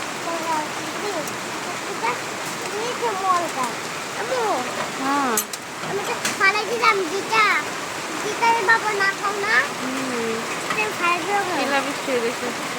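Heavy rain, with hail mentioned, pours down outdoors in a loud, continuous wash of noise, while people talk intermittently over it.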